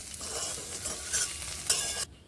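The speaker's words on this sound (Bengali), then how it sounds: "ফুলকপিগুলোকে কিন্তু ঢেকে ঢেকেই ভেজে নিচ্ছি" Cauliflower fries in oil with a loud, bright crackling hiss, plus a stir or two, before the sizzle suddenly drops away near the end.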